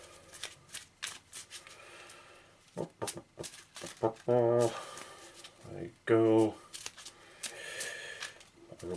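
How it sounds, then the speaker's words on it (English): A deck of cards being shuffled during a tabletop board game, with two loud riffle shuffles close by, each a quick fluttering burst, amid lighter handling and people talking. "We're constantly shuffling this deck every game."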